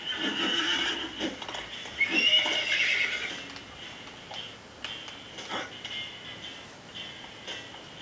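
Horse in the Disney Infinity video game gives a clear whinny, with clip-clop hoof steps and some game sounds around it.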